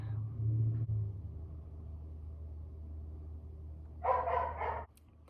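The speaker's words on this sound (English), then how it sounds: "Sorry, my dog is barking." A dog barks in a quick burst of several barks, muffled and somewhat distant, over a low steady rumble.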